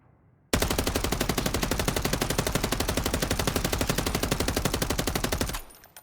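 Sustained automatic gunfire from a video game gun during a recoil test, a rapid, even burst of loud shots running for about five seconds with no pauses before cutting off into a short decay.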